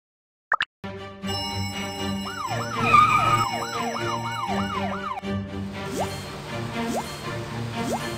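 Cartoon fire engine siren wails in a rapid rising-and-falling pattern for the panda Kiki's fire truck, loud and close, then gives a few slower single whoops over bright music.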